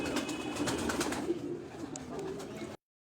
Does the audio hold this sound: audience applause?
no